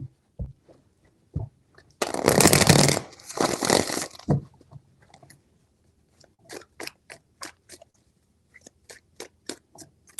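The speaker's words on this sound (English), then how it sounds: "Three shuffles." Tarot cards shuffled by hand: a few light taps, then a dense, loud riffling burst of about two seconds, followed by a run of sharp, evenly spaced card clicks and snaps, with no voice.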